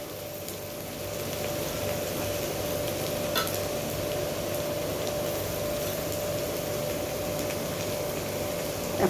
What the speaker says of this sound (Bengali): আলুর সাথে পেঁয়াজটা দিয়ে দিলাম, পেঁয়াজটাও ভেজে নেব